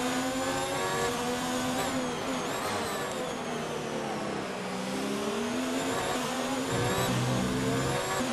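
A Formula 1 car engine in the racing game F1 2019 screams at high revs without a break, its pitch rising and falling through gear changes and corners, loud and steady with no talk over it.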